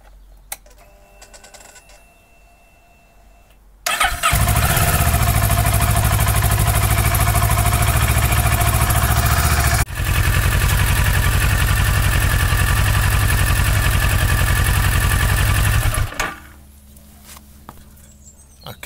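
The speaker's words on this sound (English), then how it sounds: "I'm going to start the engine, run it for around about 2 or 3 minutes just to get it warmed through" A Kawasaki Versys 650 motorcycle engine starts and idles to warm up for an oil change, a loud, steady, close-up rumble that runs for about twelve seconds before cutting off into quiet.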